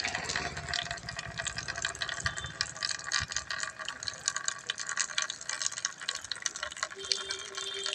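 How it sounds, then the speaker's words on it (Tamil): Fresh water being poured or filled outdoors at midday, a steady splashing, rattling flow at moderate-low level, continuous throughout. "ஊற்றுவேன். ஃப்ரெஷ்ஷான தண்ணி"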